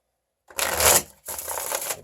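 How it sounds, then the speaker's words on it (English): Tarot cards are shuffled in two quick, riffling bursts, close and crisp, with a brief pause between them. "give this one more shuffle"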